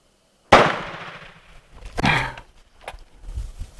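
Shots from an M4 rifle fired at outdoor targets: one sharp loud crack with a decaying echo, followed by a fainter second report about 1.5 seconds later, then quiet ambience.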